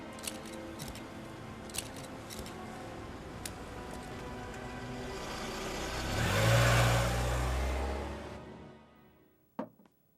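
A car starts and pulls away in a drama scene, engine noise swelling into a revving acceleration, then fading as it drives off, followed by a sharp closing thump.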